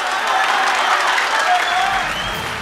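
Studio audience at a live televised singing competition in Afghanistan breaks into sustained loud applause and crowd noise, a thick continuous wash of clapping heard on its own.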